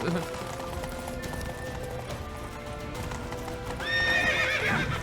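Hooves clip-clop at a steady gallop through The Witcher 3 on PS5, with whinnies and a busy game soundscape of music and voices layered over them, growing louder toward the end.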